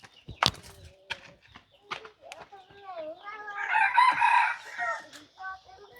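Chickens cluck in short scattered calls, then a rooster lets out a loud, drawn-out crow in the middle, close and clear around a rural home with no talking.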